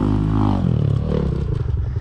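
A motorcycle engine revs hard during a wheelie attempt on a hill with a ramp, a loud, close and steady drone that rises and falls, with some clatter and scraping mixed in.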